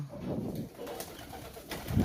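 Soft low pigeon coos near and far while pigeons feed alongside ducks and chickens, under light background noise with a few brief rustles.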